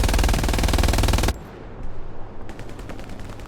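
Mounted machine gun in the World War II shooter Hell Let Loose fires a loud, dense sustained burst for over a second, then cuts off abruptly, leaving distant crackling battlefield gunfire and ambience.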